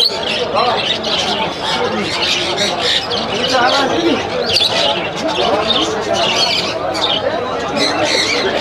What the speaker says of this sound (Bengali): তো এই এক জোড়া পায়রা দাম কে আছে দাদা এগুলো?